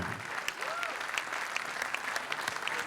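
Quiet, steady applause from an audience at a hackathon prize ceremony in Morocco, with individual sharp claps standing out over a soft continuous patter, somewhat distant and low in level.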